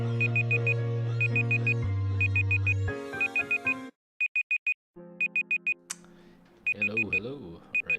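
A timer alarm rings in repeated bursts of bright electronic beeps, loud and close, layered over music with pauses between the groups of tones.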